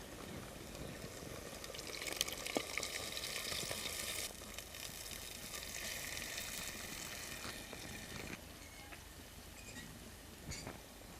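Soli vegetable hisses and sizzles steadily as it is tipped into cooked masala in a village kitchen pan for a Kathiyavadi curry, a dense close frying sound that carries on alone throughout.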